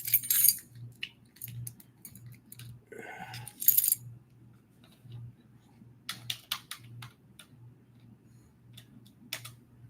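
Keys jangle and rattle in a few brief, close metallic bursts, mostly near the start and again midway, with scattered small clicks between them over a low, pulsing background hum; no one speaks.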